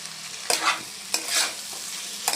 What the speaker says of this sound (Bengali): এটাকে ভালো করে মিশিয়ে দেবো